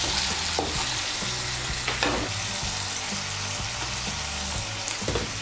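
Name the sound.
stirring stuffed pointed gourd filling in hot oil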